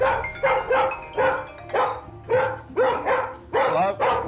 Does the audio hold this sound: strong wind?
no